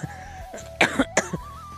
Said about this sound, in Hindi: खांसी भी आ रहा।